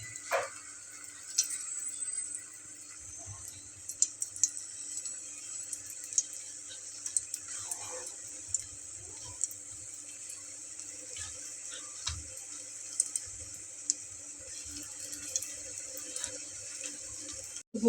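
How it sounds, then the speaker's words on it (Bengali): Small masoor dal dumplings (bori) fry in hot oil, making a steady bright hiss with occasional soft pops and crackles, close by and fairly quiet throughout. "এই গরম তেলের ভেতরে আমি এরকম ছোট ছোট করে দিয়ে নিচ্ছি"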